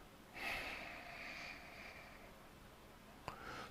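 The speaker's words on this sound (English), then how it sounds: "you got to breathe in for 4 seconds. Watch. Through your nose, keep your mouth closed." A single slow, steady nasal inhale with the mouth kept closed, a soft airy hiss lasting a few seconds, close and fairly quiet, followed by a brief click near the end.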